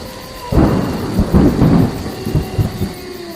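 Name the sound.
thunderstorm with heavy rain sound effect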